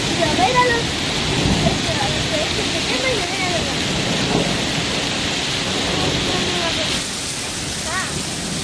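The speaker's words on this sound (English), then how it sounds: "The rain was accompanied by lightning and loud thunder." Steady heavy rain during a storm in Valencia, Spain, with a continuous wash of noise and low rumbling thunder beneath; faint bird-like chirps and indistinct voices drift through, and the level dips slightly near the end.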